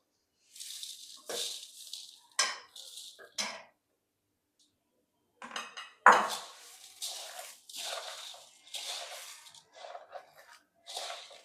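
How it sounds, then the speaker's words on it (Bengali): Puffed rice (muri) poured and tossed in a bowl with potato and gravy for muri makha, giving dry crunchy rustling bursts in several short bouts separated by pauses, close and moderately loud, with no talking. "এখন মুড়িগুলা দিয়ে দেব।"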